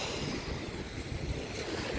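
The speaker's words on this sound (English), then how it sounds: "you hear the water." Choppy stirred-up water sloshes and washes continuously, mixed with wind buffeting the microphone, a steady moderate rush with no speech.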